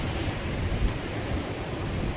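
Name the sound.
sea waves at Bogve beach, Konkan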